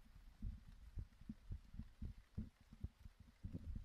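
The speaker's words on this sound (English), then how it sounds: "quiet enough to hear the heart racing and hear yourself inhale" Racing heartbeat sound effect, a quiet steady run of deep low thumps at a quick pace, each beat soft and muffled, with no other sounds.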